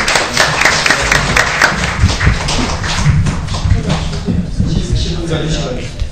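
Applause from attendees at a Korean Reformed theological society academic conference, a moderate patter of clapping mixed with voices and murmuring in the room.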